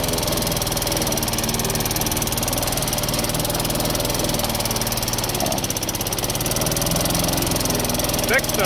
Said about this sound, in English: So it's not the healthiest engine,